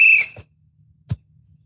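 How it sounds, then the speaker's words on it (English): A sports whistle blown once at a soccer game, a short shrill blast at the start followed by near silence and a couple of faint thumps. "Are you gonna blow the whistle?"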